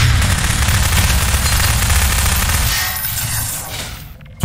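Rapid sustained SMG fire in a Half-Life 2: Deathmatch match, continuous loud bursts for several seconds that taper off near the end.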